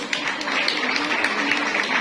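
Audience applause at a parish Women's Day event, a steady dense wash of many hands clapping throughout, fairly loud and continuous with no voices on top.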